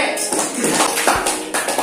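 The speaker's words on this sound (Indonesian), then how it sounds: "Tepuk tangan untuk kelompok B." Classmates applaud group B in a classroom, a short burst of scattered hand claps and taps with faint murmuring voices.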